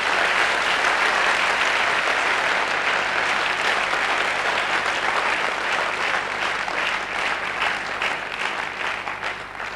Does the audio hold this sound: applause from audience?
yes